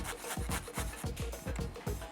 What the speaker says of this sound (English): I always have my nutmeg grater on hand to put some freshly grated nutmeg in there.